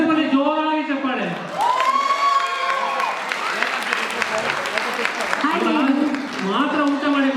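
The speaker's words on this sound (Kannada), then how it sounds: "ಮತ್ತೊಮ್ಮೆ ಎಲ್ಲರಿಗೂ ಬನ್ನಿ, ಜೋರಾಗಿ ಚಪ್ಪಾಳೆ." Applause and cheering from an audience at a Yugadi 2026 stage celebration, steady broadband clapping with whoops, a voice speaking over it near the start and end.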